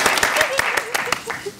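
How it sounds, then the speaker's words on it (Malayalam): A studio audience on a comedy talk show claps in a quick run of sharp, uneven hand claps. A voice speaks faintly beneath the clapping. "നല്ലൊരു ക്ലാപ്പ് കൊടുക്കണം അല്ലേ"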